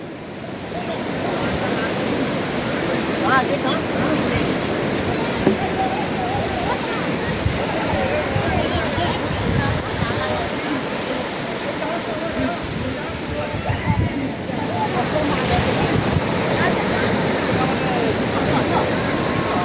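Continuous roar of sea waves washing onto the beach at Digha in the morning, with wind buffeting the microphone and indistinct voices faintly under the surf.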